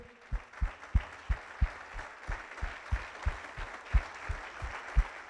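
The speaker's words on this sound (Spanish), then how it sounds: "Dele fuertes aplausos a nuestro Dios que Él se los merece." A church congregation applauding in praise during a sermon, with steady rhythmic clapping in even beats, moderately loud and carrying through the hall with no voices over it.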